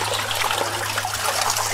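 A small waterfall at a forest temple among ferns, stone and moss makes a close, continuous rush and trickle of water over a steady low hum.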